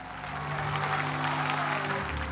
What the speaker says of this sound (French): élevez vos mains et applaudissez le Seigneur